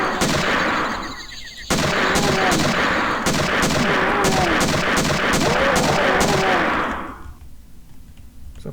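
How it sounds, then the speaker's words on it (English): Rapid shotgun blasts in Doom 2 with the Twilight Warrior mod, fired in a fast, steady series of loud, sharp booms for about five seconds before stopping abruptly and leaving a quieter game background. "who doesn't like a fast shotgun?"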